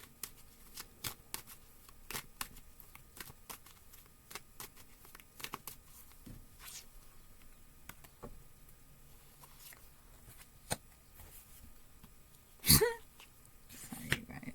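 Tarot cards being shuffled by hand in a series of soft, close riffles and pattering taps, with one louder burst of handling near the end and no talk over it.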